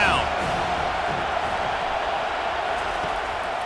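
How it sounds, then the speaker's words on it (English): Stadium crowd at a college football game, roaring steadily for the defense on third down, a dense continuous wall of cheering that stays loud throughout without a break. "Decibels rising as the crowd gets behind this defense on third down."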